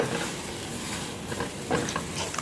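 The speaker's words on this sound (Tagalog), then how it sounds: "At isunod na natin ang ating ampalaya o bitter melon or bitter gourd, ang tawag ng iba." Bitter melon sizzles while being stirred in a sauté pan, a steady frying hiss with brief scraping and clattering from the utensil moving through it.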